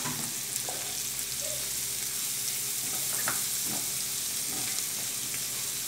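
Onion, pepper and fresh herbs for a sofrito sizzle steadily in hot oil, a dense continuous frying hiss with occasional stirring scrapes and pops, close and alone.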